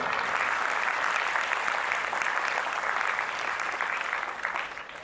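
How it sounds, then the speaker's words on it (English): Dense, steady audience applause at a school Independence Day celebration, many hands clapping together for young children's performance, sustained throughout and tapering slightly at the end. "A big round of applause for our tiny patriots."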